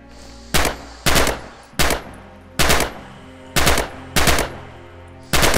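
Shots ring out in Red Orchestra 2: Heroes of Stalingrad as rifles fire at targets on a training range. Seven loud, sharp reports land at uneven intervals of about half a second to a second, each with a short decaying tail, and no voices.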